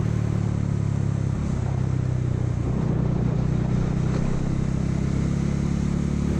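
Bajaj Dominar 400 motorcycle engine droning steadily at close range while riding a badly potholed road between Mumbai and Goa, a continuous loud rumble with slight shifts in pitch and load.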